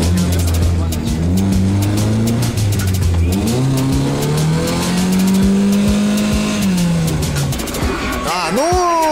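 A Volga car's engine revs hard and loud, its pitch rising and falling in long sweeps while tires squeal sharply, close up, with brief voices near the end.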